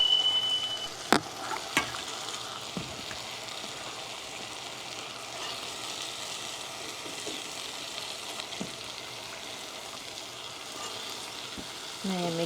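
Ridge gourd sizzles steadily in hot oil in a pan over a low gas flame, a soft continuous frying hiss with a few brief clinks and stirs scattered through, no voices.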